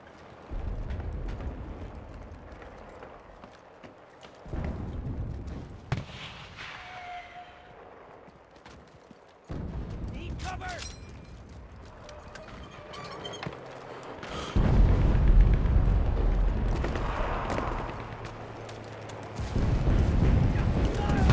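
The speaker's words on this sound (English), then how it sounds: "Artillery support! Copy! Confirm and fire!" Artillery strike in the WWII shooter Enlisted: several heavy booming explosions that come in bursts and then rumble and fade, loud and close, with radio calls and shouting voices between the blasts.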